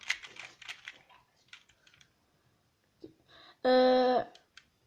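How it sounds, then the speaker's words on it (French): A 2x2 Rubik's Cube being scrambled by hand gives quick bursts of plastic clicks and twists. Irregular, close-up clatter is followed by a short, loud tonal beep near the end. "je vais vous présenter le Rubik's Cube 2x2 façon débutant. Donc déjà je vais le mélanger un peu"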